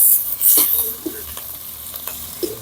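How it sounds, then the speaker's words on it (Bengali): Dried loitta fish (Bombay duck) fries in oil, a loud close sizzle with crackles and scraping stirs that fades to a softer hiss. "এখন আমি এটাকে একটু তেলের মধ্যে ভেজে নিচ্ছি"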